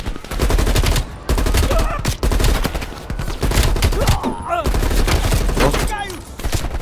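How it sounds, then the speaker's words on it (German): Rapid bursts of automatic gunfire in Call of Duty Black Ops Cold War, loud and continuous over several seconds with brief gaps, mixed with groans and voices in the firefight. "Die schießen weiter."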